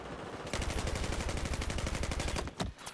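Rapid automatic gunfire from a shooting video game rattles in a fast, steady stream for about two seconds, then breaks off into a few scattered shots.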